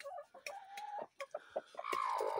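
Hens cluck near and loud in a morning farmyard, a run of short separate calls, one drawn-out cluck, then a denser burst of squawking clucks toward the end.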